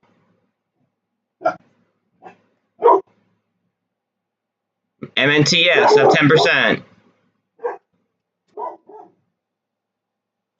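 Dogs bark indoors in several short, sharp bursts, with a longer run of barking in the middle, while someone talks between them; roofing work is going on nearby.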